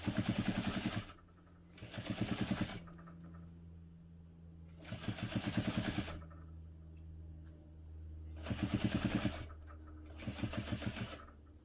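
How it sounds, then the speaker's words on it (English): A sewing machine runs an eighth-inch seam around the folded fabric edge of a clutch bag, in several close bursts of rapid whirring stitching, each separated by a quiet pause. "stitch all the way around the folded edge using an 1/8 inch seam allowance"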